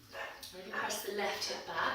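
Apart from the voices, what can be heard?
dog barking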